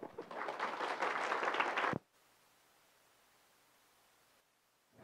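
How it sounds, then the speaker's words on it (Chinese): Audience applause at a PyCon Taiwan 2023 talk welcomes the speaker, a loud dense clapping for about two seconds that cuts off abruptly into quiet room hiss. "让我们用热烈掌声欢迎我们的 Milo"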